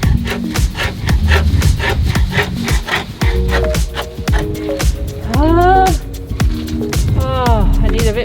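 A scraper rasps repeatedly against a sailboat hull during boatyard hull work, with rhythmic back-and-forth scraping strokes up close and loud, steady across the stretch with some squeaky, tonal scrapes near the end.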